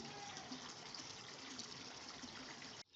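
Water pours steadily from a hose or tap into an above-ground Bestway oval pool set on synthetic grass, a continuous rushing gush heard close up that cuts off abruptly near the end.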